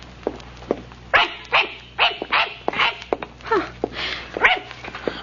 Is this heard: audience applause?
no